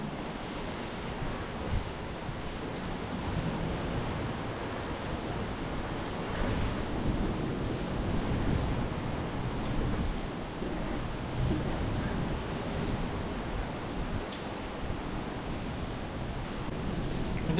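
Steady wash of high-tide sea surf rolling onto a shore near Mumbai, broad and continuous with slight swells, mixed with some wind rumble; no voices.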